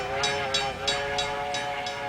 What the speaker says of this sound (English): The big attraction in Prairie Town is the dinner train, headed by a vintage steam locomotive.